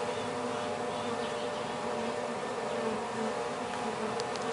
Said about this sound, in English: and there you have it, installed bees.